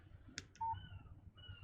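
A short text message alert chimes from a phone in the game Alan Wake: a pair of bright, clipped electronic blips followed by a steady tone, fairly quiet over a low rumbling background.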